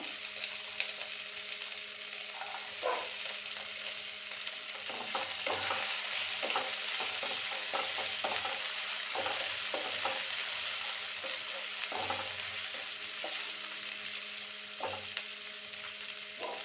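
Chopped beans are stirred and fried in a pan for upma, a steady close sizzle broken by repeated clinks and scrapes of the spoon against the pan, no voices.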